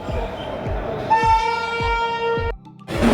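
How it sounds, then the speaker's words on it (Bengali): The Anand Vihar Express stands at a station platform, with repeated wheel clanks passing over rail joints, then a long sustained horn blast over the rumble before it cuts off. "আমাদের ট্রেন দিয়ে দিল এক নম্বরে আনন্দ বিহার এক্সপ্রেস"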